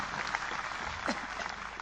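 Audience applause at a voter awareness gathering with a defence minister present, a brief continuous burst of clapping from a crowd, fairly quiet with no speech over it.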